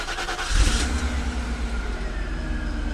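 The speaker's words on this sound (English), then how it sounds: "I'll start it up for you so you can hear the engine purr" A solid, comfortable car with no exhaust modifications starts up near the microphone, a brief crank and catch settling into a steady, quiet low idle that hums evenly.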